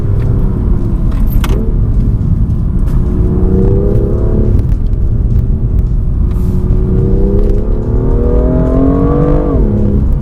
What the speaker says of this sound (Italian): Il motore comunque per essere turbo ha un sound che non è niente male.